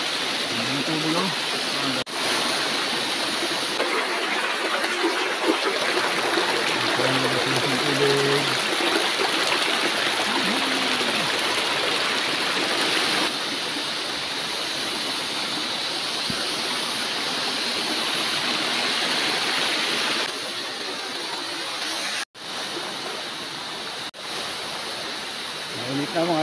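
A river stream rushes and splashes continuously at a picnic spot, a broad steady wash of water noise close by with voices talking intermittently over it.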